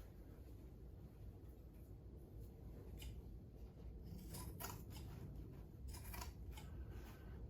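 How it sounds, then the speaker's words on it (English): Quiet, steady snipping and crunching of shears cutting through soft van insulation material, close by, with brief crisper cuts clustered toward the end. "These shears are so much better than regular house scissors."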